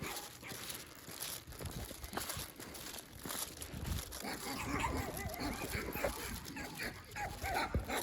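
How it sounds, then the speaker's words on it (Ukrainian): Dogs barking and whimpering at a rural village yard, with irregular yelps and barks close by, mixed with rustling and a voice. "Що ви гавкаєте за ним?"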